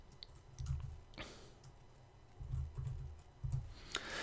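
Someone types a command on a computer keyboard while configuring a Cisco switch, giving a few short bursts of soft, close key clicks separated by brief pauses, with no talk.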